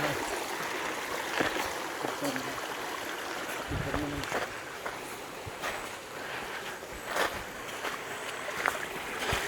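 Steady broadband rushing of a small stream flowing nearby in Tapah, Perak, Malaysia, continuous throughout with occasional faint knocks and splashes.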